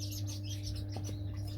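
A fledgling bird gives a couple of faint, thin chirps inside a quiet aviary shed, heard over a steady low background hum with no talking.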